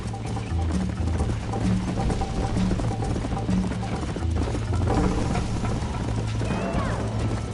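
A horse galloping in a race in the video game Red Dead Redemption: rapid, continuous hoofbeats pounding under loud, dense music and game sound.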